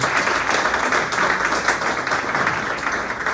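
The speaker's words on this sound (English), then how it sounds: "Let's give them all a round of applause." Audience applause for the event sponsors at a legislative action committee meeting: a dense, steady wash of many hands clapping together, loud and close, with no break for the full stretch.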